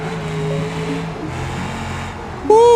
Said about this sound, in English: Let's listen to that V8 in the tunnel